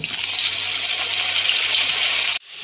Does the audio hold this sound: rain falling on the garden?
no